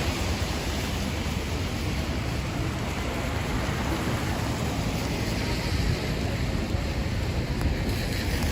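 Steady rain falling in Midtown Manhattan, New York City, a dense unbroken hiss at constant loudness with no voices.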